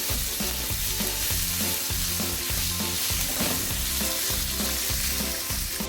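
Sliced onions sautéing in a pan over medium heat, a loud, dense, continuous sizzle with a steady rhythm of stirring scrapes, close and without talk.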